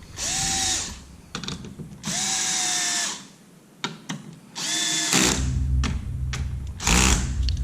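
A power driver at a very low torque setting tightens heatsink screws on a Dell PowerEdge R820 server, whirring in several short bursts with ratcheting clicks and handling clatter between them.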